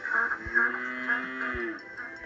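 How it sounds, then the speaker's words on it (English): A cow moos in a long, drawn-out low call, clear and fairly close, with a couple of soft thumps underneath. "Farmer McColl's prize cow liked the hay."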